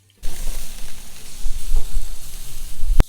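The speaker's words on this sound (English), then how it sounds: "We're just gonna put our tofu skewers on the grill." Tofu and vegetable skewers sizzle on a grill in a steady, close hiss with soft crackles and a sharp tap near the end; no one speaks.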